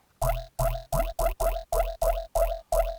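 Nine short, evenly spaced Serum synth bass notes, a drum and bass jump-up frog bass with a croaky, frog-like buzzy tone, each pulse cutting off sharply before the next.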